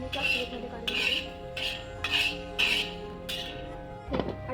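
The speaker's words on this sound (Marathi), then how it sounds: "मी त्याच प्लेटमध्ये काढून घेते" Roasted cumin and mustard seeds being scraped from a pan onto a plate, a series of about six sharp metallic scrapes and clinks in an uneven rhythm, close and fairly loud, ending with a brief clatter.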